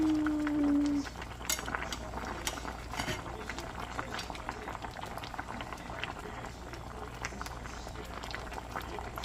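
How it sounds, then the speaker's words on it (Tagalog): Crabs boiling in a cooking pot for a spicy dish: a steady, close bubbling and fizzing with crackly pops throughout, after a brief tonal hum at the start. "Lalaking crabs. Papakuluan ko pa. Kulo-kulo."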